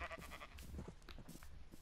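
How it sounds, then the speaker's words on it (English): Sheep bleating in Minecraft on PS4, several short wavering bleats overlapping in quick succession at close range, fairly loud and steady throughout. "These sheep I need to shear."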